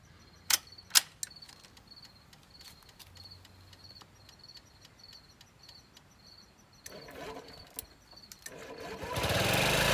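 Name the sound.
Honda Ruckus scooter engine idling after fuel pump swap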